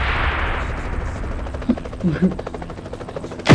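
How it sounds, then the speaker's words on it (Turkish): A helicopter's rotor thumps steadily in PUBG Mobile, mixed with bursts of gunfire and a loud crack at the end. "Helikopter geldi."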